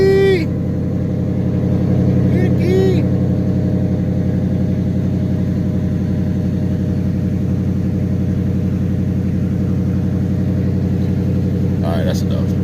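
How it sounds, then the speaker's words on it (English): Dodge Charger SRT8 V8 idling steadily after a cold start, a loud, deep continuous rumble throughout, with brief chirpy noises near the start and end. "I think I'm going to give you all a cold start because I haven't started this car in a minute."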